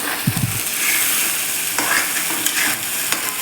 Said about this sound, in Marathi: बारीक गॅसवरती आपल्याला हे वाटण छान असं ते सुटेपर्यंत आपल्याला असं परतून घ्यायचं आहे